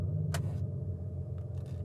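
Artificial engine sound from an Abarth 500e electric car, a low steady synthetic hum with a couple of brief clicks over it, fairly quiet.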